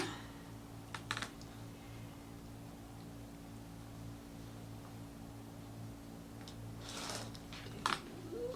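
Quilt fabric being cut into 2-inch strips: a couple of short, crisp cutting strokes near the start and another cluster near the end, faint and close over a steady low hum with no talking.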